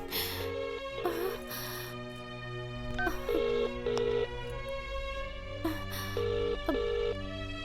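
A phone call rings out over a speakerphone, repeated tonal ring bursts with gaps between them over a steady low background hum, no one answering.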